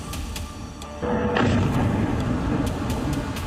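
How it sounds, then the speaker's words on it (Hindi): Missile strikes and bomb blasts in wartime news footage: a continuous low rumbling roar swells suddenly into a heavier, louder boom-laden wash that holds steady, with no speech over it. "मिसाइलें गिर रही हैं, बम बारूद से बर्बादी का खौफनाक मंजर है।"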